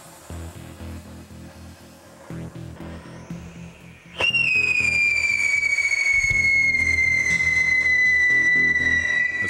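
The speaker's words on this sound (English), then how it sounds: "This causes the tube to vibrate and you get the whistle sound" A firework whistler in a chemistry demonstration ignites with a sharp burst, its tube vibrating to shriek a loud, piercing, slowly falling whistle that continues to the end.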